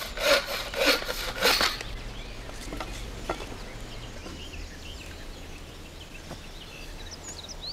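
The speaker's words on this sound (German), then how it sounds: "bringt eine frische Rasenplagge auf die Kuppe und füllt neues Brennholz ein" A charcoal burner loads fresh firewood into a smoking charcoal kiln in the Kermeter forest, with a few close, loud scraping and rubbing bursts of wood at the start, then quieter knocks and rustles over a steady outdoor background.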